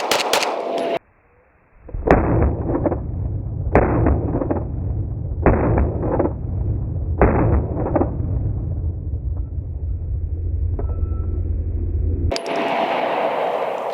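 A Staccato XL 9mm pistol fires four 124-grain rounds, each a loud sharp crack about two seconds apart with a ringing tail over a steady low rumble, close by.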